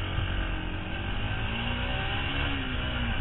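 A Yamaha WRX125 motorcycle accelerates hard in first gear, its engine note rising steadily in pitch as it revs up, loud and continuous with no talk.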